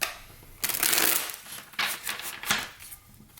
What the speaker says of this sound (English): All right, we're going to shuffle again.